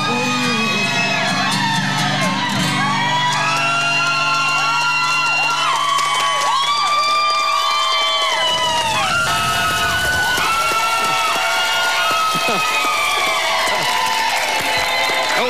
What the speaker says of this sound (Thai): อันนี้เขากรี๊ดกันเองไม่เกี่ยวกับผมสั่งนะฮะ